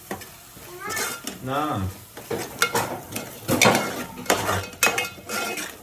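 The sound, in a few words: spices and salt frying in oil in a pot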